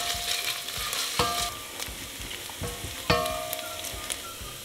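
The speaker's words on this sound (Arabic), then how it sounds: "بطنجرة تانية بحط زيت زيتون، وبضيف عليها نص كمية البصل الفاضلة، وبقلبهم لحديد ما يصير لونهم بني" Onions frying in olive oil in a pot, a steady crackling sizzle broken by scraping, clinking stirring strokes at irregular intervals, close and clear with no talking.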